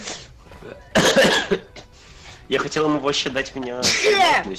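A sharp sneeze erupts close to the mic amid casual conversation among friends gaming together, followed by more talking and throat noises.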